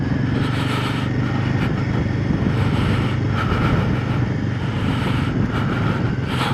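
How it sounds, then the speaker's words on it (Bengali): Motorcycle engine braking downhill on a mountain road near Nathula and Baba Mandir, a steady droning engine note under wind and road noise, close and continuous throughout. "Engine breaking."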